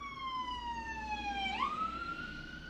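Ambulance siren passing outside, a wailing tone that sweeps steadily downward and then jumps higher as the vehicle goes by, with Doppler shift. It sounds moderately distant over a steady background hum, with no talk.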